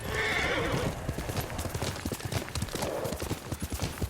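Horse hooves clip-clop steadily on hard ground while a horse whinnies loudly in the video game Ghost of Tsushima, the sound close and continuous throughout.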